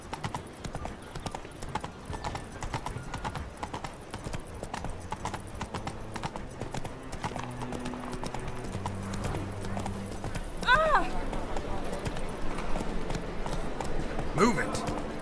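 Roach the horse galloping in The Witcher 3, a steady rapid clip-clop of hooves throughout with game music underneath, a brief whinny near the end, and someone talking over it.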